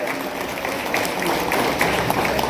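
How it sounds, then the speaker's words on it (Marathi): An audience at an award ceremony clapping, a dense, steady round of applause heard up close, with some talk mixed in. "स्वतःसाठी जोरदार टाळ्या वाजवा."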